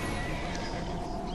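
A horse whinnies in the Neverwinter video game, a fairly brief neigh heard over a steady dense bed of game ambience, with no talking.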